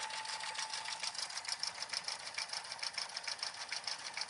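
A sewing machine stitches the sides and bottom of a card case or wallet, a steady, fairly quiet mechanical whir with a fast, even pulse running throughout.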